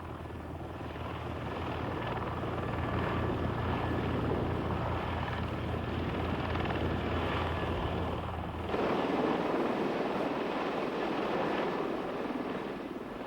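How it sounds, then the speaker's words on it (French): X-100 tiltrotor test aircraft with a Lycoming T53 turbine coming down to land: a loud, steady turbine and rotor roar that holds throughout, its tone shifting near the end as power is eased off. "il réduit lentement les gaz et pose l'appareil en douceur"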